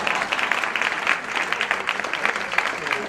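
Applause from the audience at a community Black History Month event, a steady wash of many hands clapping throughout with no pauses.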